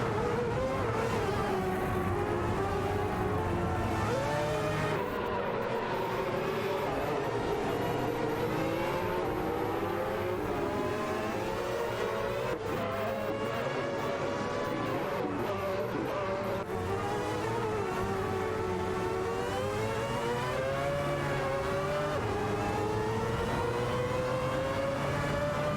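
Simulated race cars in an online racing game roar continuously, engines droning and shifting pitch as they jostle for position, with a steady dense whine throughout and no pauses.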